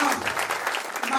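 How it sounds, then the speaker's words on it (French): A crowd at a family tribute gathering claps in a brief, dense burst of applause, fairly close, with some voices mixed in. "Ça s'acclame, ça s'acclame."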